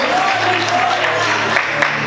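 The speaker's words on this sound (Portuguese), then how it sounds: "Você pode aplaudir Jesus, você pode aplaudir Jesus" A church congregation claps in steady, dense applause that lasts the whole moment, with a faint voice carrying over the clapping.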